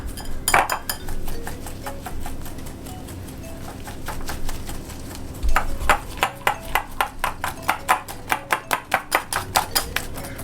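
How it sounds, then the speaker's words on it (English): A whisk beats egg and sugar in a bowl, rapid rhythmic metallic clinks and scrapes against the bowl, sparse at first, then a fast regular run of strokes near the end. "we're going to put our sugar into that. And you're going to whisk this in until it turns pale"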